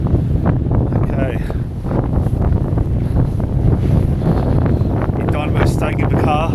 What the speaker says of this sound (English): it is very windy up here